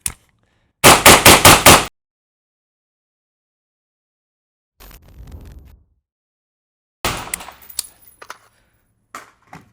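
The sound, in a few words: 11.5 inch rifle firing M193 with SOCOM 556 RC4 suppressor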